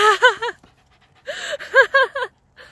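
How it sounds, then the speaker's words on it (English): Pet dogs pant rapidly in short, close bursts with little whimpers, the breathy rhythm broken by a brief pause while being greeted on a bench. "Is it okay if I pet your dogs?"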